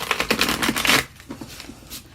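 Tarot cards riffle-shuffled in a quick burst of papery flutters, near and fairly loud, then a few softer card taps and slides follow alone.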